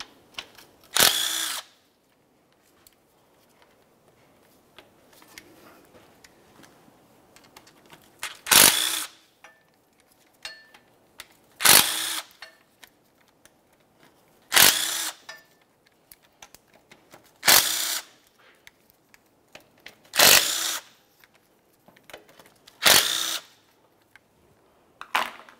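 A power tool, likely a drill or impact driver, removes transmission pan bolts on a 1994-2002 Dodge Ram 2500, running in about eight short loud bursts separated by quiet pauses, with no talking.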